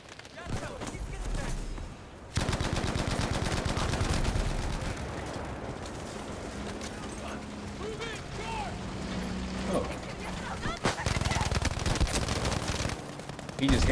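Bren LMG fire in Battlefield V, a World War II British light machine gun: sustained rapid automatic bursts almost without pause, loud and dense, with a brief lull near the start and mechanical clatter throughout.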